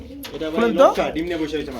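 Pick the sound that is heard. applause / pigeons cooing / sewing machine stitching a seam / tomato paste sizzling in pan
pigeons cooing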